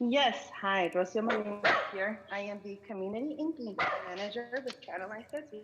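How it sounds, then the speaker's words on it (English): A dog barks and yips repeatedly in the background of a city council meeting's remote public comment, with someone speaking clearly over the barking throughout. "that's my dog in the background"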